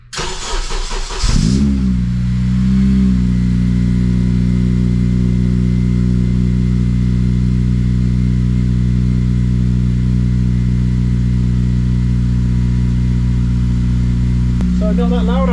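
A Honda Civic Type R FN2 with a Tegiwa 70mm exhaust and 4-2-1 manifold cranks and fires up, then settles into a loud, steady, deep idle heard up close, with a brief blip near the end.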